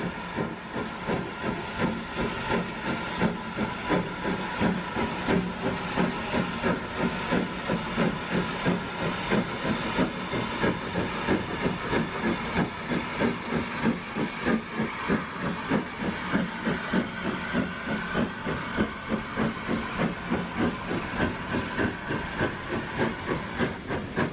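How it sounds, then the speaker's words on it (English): LMS Black 5 steam locomotive 44871 climbing a stiff bank out of Keighley, with loud, steady rhythmic exhaust beats and hissing steam throughout, close and continuous with no talk. "it shows the LMS 460 Black 5 Loco 44871 departing up the stiff bank out of Keithley"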